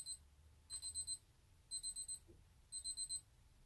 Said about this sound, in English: keep getting interrupted by the alarm for the microwave